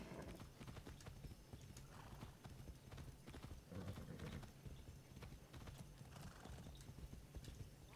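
Horse hooves clip-clop steadily in the Far Cry 6 video game, a continuous walking rhythm with a brief whinny, heard fairly faint.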